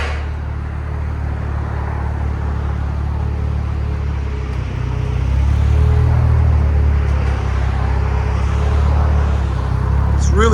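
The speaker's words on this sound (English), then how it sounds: "And it is ECS Performance Exhaust." A supercharged 3.0L V6 in a 2013-2016 Audi S5 with an ECS Performance cat-back exhaust rumbles at a steady idle on a cold day, growing louder and deeper about halfway through.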